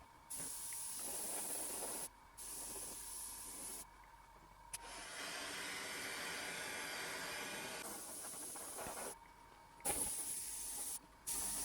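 An aerosol can sprays coats of candy paint onto an RC car body in steady hissing bursts several seconds long, separated by short pauses, with one long continuous spray in the middle.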